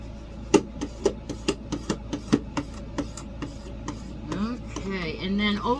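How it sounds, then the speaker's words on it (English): A small plastic Dollar Tree scraper pressed over a sticker on a board gives a run of about a dozen sharp, evenly spaced scraping strokes, close up, followed by a voice speaking. "I'm going to get my little Dollar Tree scraper out."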